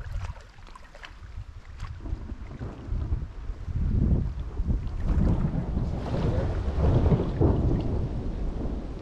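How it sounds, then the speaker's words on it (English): Thunder rumbles and builds in long, heavy rolls through a lightning storm on a dog-sled freight trip along a trapline, with wind and rain noise, growing louder toward the end. "Oh, lightning."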